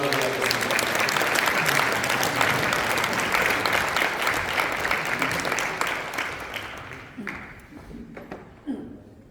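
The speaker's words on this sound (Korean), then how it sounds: "우리 박수로 할렐루야." A church congregation at a Korean spiritual retreat worship service applauds to welcome the pastor; a thick wash of clapping fades after about seven seconds, and a voice follows.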